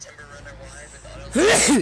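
A single loud, sudden sneeze bursts out near the end, following quiet speech in the background.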